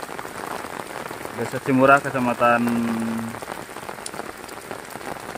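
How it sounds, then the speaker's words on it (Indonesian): Heavy rain pours steadily in a village in Garut, West Java, Indonesia, a dense continuous hiss on surfaces, with someone speaking briefly over it midway. "Hujannya lumayan cukup deras."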